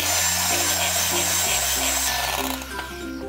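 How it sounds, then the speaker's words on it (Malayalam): An electric hand mixer beats mango with whipping cream for ice cream, a loud steady whirring motor that shifts pitch partway through as the beaters work the mixture, with no talking. "ഇതിനി ഒന്നുകൂടി ഒന്ന് ബീറ്റ് ചെയ്യാം."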